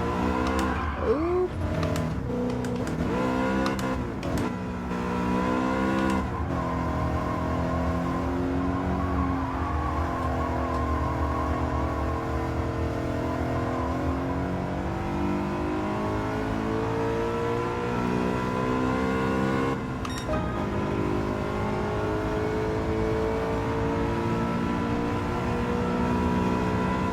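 BMW race car engine revving hard around the Autopolis circuit in a racing video game, a loud continuous whine rising and falling through gear shifts and braking for the full stretch, with no talk.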